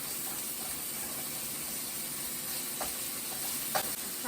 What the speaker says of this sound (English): Mix up that sausage real fast here.